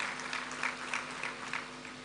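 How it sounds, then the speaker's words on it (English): An audience at a university matriculation ceremony in Ghana applauds steadily, a dense even patter of many hands clapping at moderate volume with no voices over it. "A round of applause for her."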